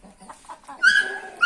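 A dog gives a couple of loud, sharp barks close by on a Turkish farm among Indian chickens, with softer clucking and bird noises before it.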